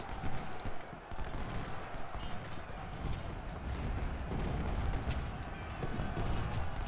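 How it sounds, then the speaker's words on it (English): Artillery and musket volley from a Civil War battle in the Ultimate General: Civil War strategy game, a dense, continuous rumble of massed gunfire and booming cannon throughout, with a voice faintly underneath. "Wow, that was a nice volley."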